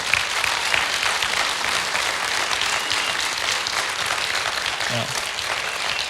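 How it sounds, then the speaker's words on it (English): A hall full of parents at a high school panel bursts into sustained applause, dense and even clapping that holds steady at full loudness for several seconds, with a brief voice near the end. "let's give not just them a round of applause, but their parents as well"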